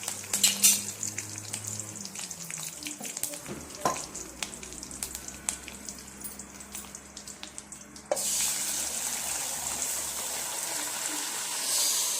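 Tempering for paruppu keerai fries in hot oil before the mashed greens go in, a continuous crackling sizzle with sharp spits and pops that turns louder and denser in the final seconds, heard up close with no talking.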